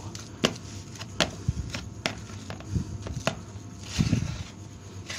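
Fishing bait of egg and fishy pellets being stirred and mashed together, giving repeated sharp knocks and scraping thuds at an uneven rhythm, close and fairly quiet, with no talking.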